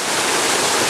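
A waterfall at Waterfall Gully rushes steadily and loudly up close, a dense continuous roar of falling water with no voices.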